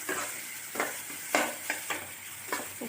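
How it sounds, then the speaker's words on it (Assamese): Chopped tomato frying in a pan, a soft continuous sizzle broken by several scraping stirs at irregular intervals, close and moderately quiet with no talking. "এতিয়া মই বিলাহিটো অকমান ভাজি ললো।"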